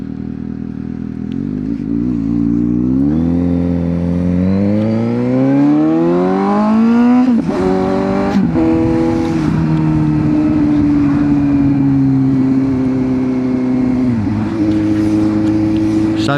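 Suzuki GSX-S750 motorcycle engine revving up through rising pitch, then holding a loud, steady high idle with brief blips, close by and alone for about sixteen seconds.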